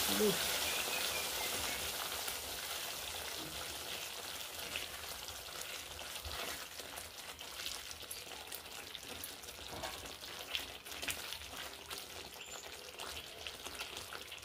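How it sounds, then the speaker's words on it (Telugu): Soft continuous sizzling of masala frying in a pan, with faint scraping and small crackles throughout. "చూడండి ఎంత సూపర్గా మంచిగా ఫ్రై చేసుకుంటున్నాను"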